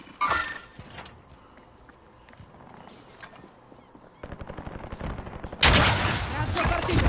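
Gunfire in a PS4 shooter game: scattered shots early on, then a rising burst of rapid automatic fire building into a loud, dense barrage at the end, with game effects and faint voices beneath.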